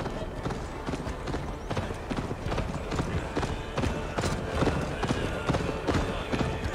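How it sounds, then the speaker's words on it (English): Galloping hooves from a horse in Assassin's Creed Valhalla beat in a fast, steady clip-clop rhythm, close and continuous, with voices talking over the ride. "Ride like Sleipnir's hooves! Your horse is slow"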